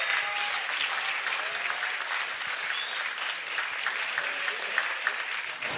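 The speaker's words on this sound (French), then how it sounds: "Et on peut applaudir..." Audience applause at a live event broadcast from the Bay of Fouesnant, a dense, even wash of many hands clapping that continues for nearly six seconds, with faint voices mixed in.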